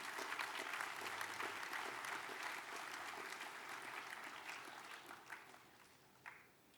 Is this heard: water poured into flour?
no